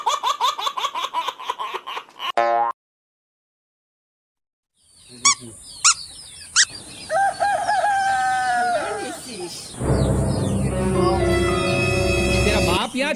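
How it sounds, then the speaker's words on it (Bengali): Chicken clucking and squawking in a comic home skit, bursts of clucks that stop, a pause of silence, then louder crowing and squawks with laughter and talk mixed in, ending in a sustained noisy section. "মা ঝাড়া মুরগি নিয়ে এসছি, মুরগিটা একটু পাকাও তো"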